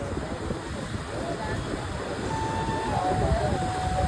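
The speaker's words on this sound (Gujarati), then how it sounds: "બહુ ખતરનાક મોજા આવે છે એકદમ ભયંકર" Rough, stormy sea waves crash continuously on the shore at Dwarka. A steady roar of surf and wind gusts grows slightly louder toward the end.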